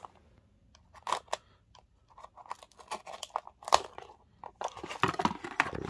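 Scissors snipping and crunching through stiff plastic packaging on a McLaren toy, with close, loud irregular cuts and crinkling bursts that grow denser toward the end, no talk.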